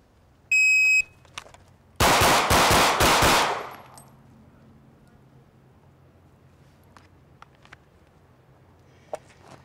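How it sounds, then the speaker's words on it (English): Pistol gunfire on a training range, a beeping shot timer followed by a quick string of sharp shots in pairs on three targets, loud and close, then quiet with a few faint clicks. "So double taps on three different targets."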